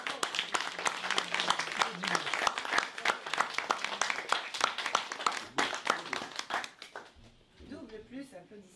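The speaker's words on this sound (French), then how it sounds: "Double plus applaudissements" Audience applause after a poetry reading at a book presentation, lively crowd clapping with distinct sharp claps up close that fades out near the end as a voice begins speaking.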